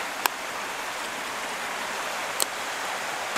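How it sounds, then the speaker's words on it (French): A river running from a waterfall gives a steady, broad rushing wash heard from close beside the water, with a couple of faint clicks over the constant flow. "on est juste à côté de la rivière qui coule de la cascade"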